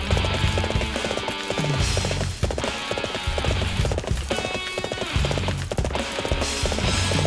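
A horse gallops in the video game Dynasty Warriors 7 Empires, its rapid hoofbeats drumming in a continuous rhythmic clip-clop over a busy game soundtrack, with no talking.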